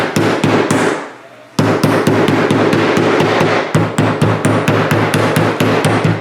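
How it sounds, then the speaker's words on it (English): A meat hammer pounds pork belly in a fast, steady rhythm of heavy thuds, pausing briefly once before the rapid pounding resumes. "we're going to go get a meat hammer and we're going to pound this out just a little bit"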